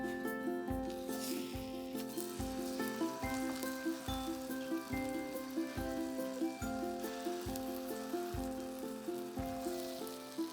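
A grilled cheese sandwich fries in a pan with a soft, steady sizzle, faint and close, under a music bed with a regular beat.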